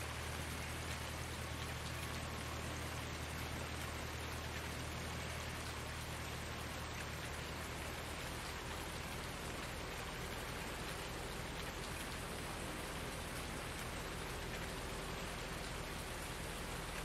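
Steady, even rain hiss from a farming simulator game runs unbroken throughout, a dense wash of drops with no voices.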